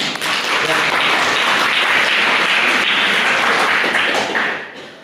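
A lecture-class audience at a university Pancasila course breaks into steady, dense applause, many hands clapping together at a constant loud level for several seconds before it fades out.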